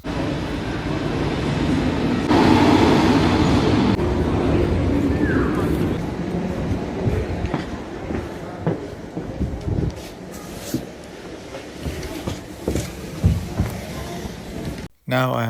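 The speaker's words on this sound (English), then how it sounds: "Now I am on the train heading to West Berlin." Train ride across Berlin from east to west: the interior rumble and rattle of a moving rail car, louder early then easing, with scattered clicks and bumps and people talking in the background.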